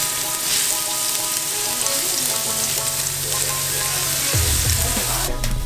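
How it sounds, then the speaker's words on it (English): Garlic sizzles loudly and steadily in a hot pan, a constant crackling fry with a brief stir near the end. "And it's ready, it's sizzling."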